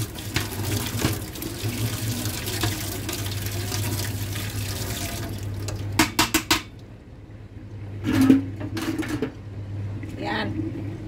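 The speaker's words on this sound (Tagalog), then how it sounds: "Kailangan linisin natin na mainit na tubig." Hot water runs at a sink during washing, a steady tap flow with clinks of dishes and utensils, while people talk over it.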